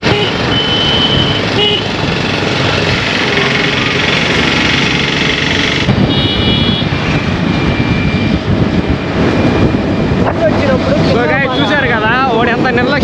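A fast-moving scooter engine roars steadily, heavy wind rush covering everything, with a voice talking faintly beneath the noise.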